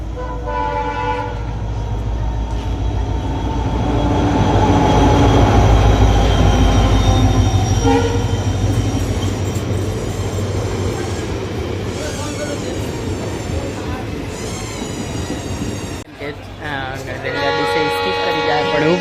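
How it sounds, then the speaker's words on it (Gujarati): An express train rushing through a railway station near Botad, a loud continuous rumble of wheels and carriages with horn tones and some squeal, swelling to a peak then easing, close by under occasional background voices. "તો હમણાં અહીંયા એક્સપ્રેસ ટ્રેન નીકળવાની છે આવી જ રહી છે."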